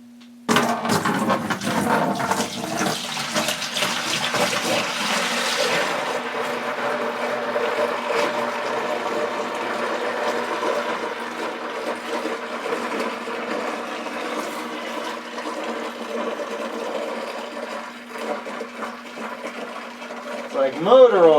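Oatmeal stout brew pours into a fermenting bucket as a loud, steady rushing and splashing stream that runs for about twenty seconds before tapering off.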